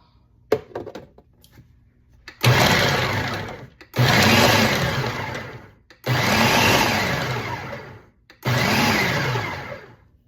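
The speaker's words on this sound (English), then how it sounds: "Half of our vegetables are in the food processor, and we're gonna pulse them up" Food processor chopping hot pepper relish vegetables, four loud whirring pulses of roughly one and a half to two seconds each, with brief clicks and silent gaps between, close and alone.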